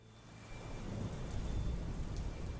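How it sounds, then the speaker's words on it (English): Heavy rain pours steadily in a thunderstorm, a dense hiss with low rumbling thunder beneath, swelling slightly toward the middle and holding constant to the end. "it was pouring down rain. It was probably the worst storm we'd gotten that year."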